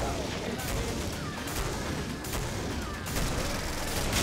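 Rapid gunfire from a weapon in the video game Killing Floor, dense repeated bursts and booms layered over a noisy chaotic background, loud and continuous with a few sharper cracks standing out.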